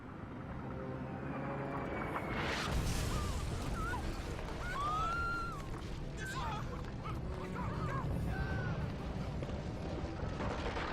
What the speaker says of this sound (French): What was that? Explosion, ma chère.